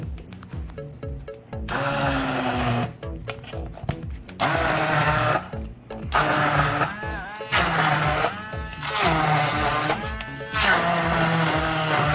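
An immersion blender whirs through thick hummus in bursts, its motor loud and close, pausing and restarting several times with rattling as the wand works the mixture.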